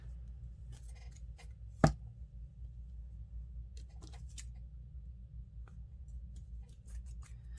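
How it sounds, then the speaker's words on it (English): A single sharp snip of scissors cutting through a sock for a craft gnome, one brief crisp cut in an otherwise quiet room. "Let me first just cut this sock."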